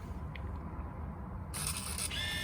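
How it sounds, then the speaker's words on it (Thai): A Kyocera Campus 70 film camera's self-timer gives a couple of faint ticks, then the shutter releases with a brief whirring mechanical clatter. Quiet and close, with no voices. "ชัตเตอร์ก็จะทำงานให้เองอัตโนมัตินะครับ"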